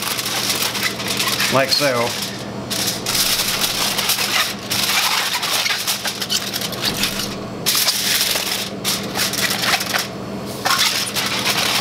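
Aluminum foil crinkled and folded up around an oyster mushroom, crisp crunching and crackling bursts throughout with brief pauses, a voice speaking briefly over it.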